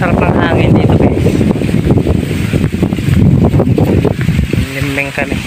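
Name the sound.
wind blowing outdoors during rice harvest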